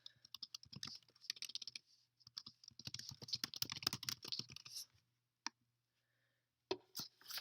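Computer keyboard typing in quick irregular bursts of light clicks, with a pause and a few final keystrokes, close and quiet with no voices.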